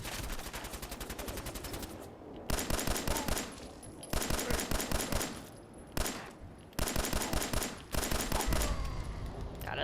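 A 10mm pistol in Fallout 4 fires in rapid bursts of closely spaced shots, several volleys separated by brief pauses, loud and sharp with no talking.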